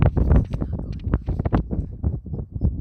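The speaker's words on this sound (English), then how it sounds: "it's a little windy out here" Wind gusting across an open fenced property near Lancaster, California, a steady rumbling buffet on the microphone that rises and falls in short bursts, with no talk over it.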